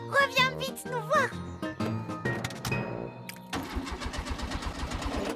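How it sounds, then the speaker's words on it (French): In a Ben and Holly cartoon, a car with an empty fuel tank cranks but fails to start, a rhythmic chugging that follows a stretch of talk and music. "Zut alors, la voiture ne démarre pas."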